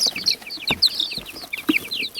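Baby chicks raised off grid peep rapidly and repeatedly up close, their high thin chirps overlapping in a busy, continuous chorus with a couple of soft thumps.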